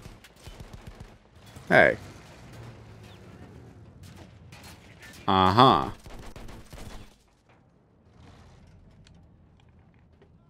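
Gunfire rings out in the World War I shooter Battlefield 1. Two loud bursts of shots stand out against quieter background game noise, and a voice speaks briefly.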